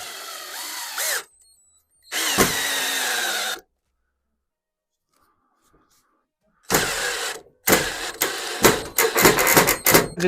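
A 12-volt cordless screwdriver drives a screw at its second speed: loud whirring motor bursts of about a second each, a long silent gap, then a string of short stuttering pulses as the screw seats, close by and with no talk.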